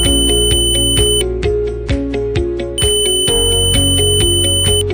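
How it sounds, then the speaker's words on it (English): Continuity test buzzer on an ANENG SZ308 digital multimeter, a loud, piercing electronic tone sounding in rapid repeated on-off bursts, close up and alone. "the buzzer sounds to indicate normal patency"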